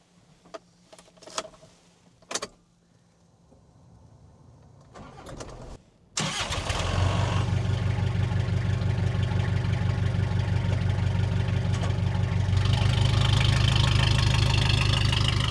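A 1998 Toyota Hiace Toyoace diesel truck cranks over and starts after a few quiet clicks and faint birdsong, then settles into a loud, steady clattering idle that grows slightly louder near the end.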